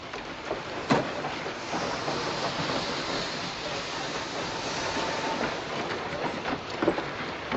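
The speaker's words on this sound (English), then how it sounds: "Our trains are coming." Train rolling along railway tracks, a steady broadband rumble with faint rhythmic clicking of wheels that holds at an even level throughout, heard alone without voices.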